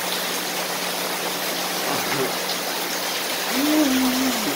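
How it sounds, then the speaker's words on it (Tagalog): Steady broadband hiss of heavy rain pouring down, constant throughout, with a brief voiced sound near the end. "Oh, lakas ng ulan."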